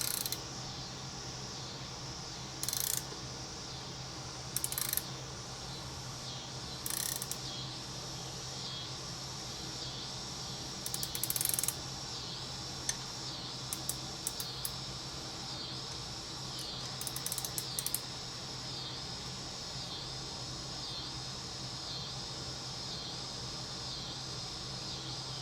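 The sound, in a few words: tightening a staking tool on a Remington shell latch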